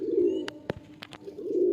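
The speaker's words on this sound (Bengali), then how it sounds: "ঠিক এটা আছে, মাদি পায়রা।" A female racing pigeon at a tournament loft in Sankrail, Howrah, gives soft low coos amid a steady hum, broken by a few sharp clicks and taps nearby.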